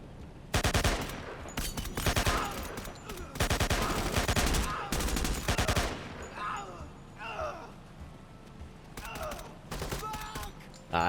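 AK rifle fire from the tactical shooter game Door Kickers 2 comes in dense rapid bursts, several volleys with brief pauses, followed by lighter scattered sounds and some talk.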